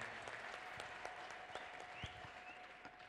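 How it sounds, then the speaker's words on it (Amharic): A church congregation claps steadily at a wedding service, with a faint ululating trill woven into the distant applause, all fairly quiet and continuous. "ለእግዚአብሔር የሚገባ እልልታ፣ ጭብጨባ።"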